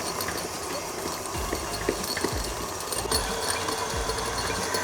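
An electric stand mixer creams butter and sugar at a slow speed for a chocolate cheesecake brownie, giving a steady mechanical whir with faint rhythmic knocks underneath, close by and with no talking.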